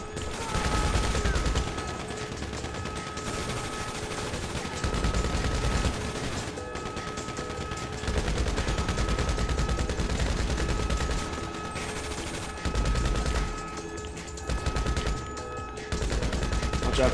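Gunfire during a heist in GTA V, sustained bursts of rapid shooting from several guns, loud and close, in dense stretches broken by short lulls, continuing throughout over a faint steady hum.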